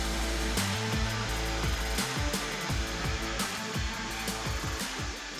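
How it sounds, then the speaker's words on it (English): A Milwaukee FUEL compact cordless bandsaw cuts through Unistrut steel channel alongside a 20-volt competitor, giving a loud, steady motor whine with grinding, rasping metal-cutting noise and repeated pitch sweeps throughout, no voices. "We'll now show this in action, cutting against one of our 20-volt competitors through Unistrut."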